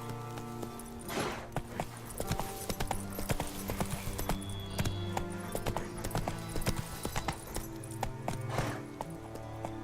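Roach, a horse in The Witcher 3 Wild Hunt, galloping with a rapid, steady clip-clop of hooves under game music and ambience, close and continuous throughout.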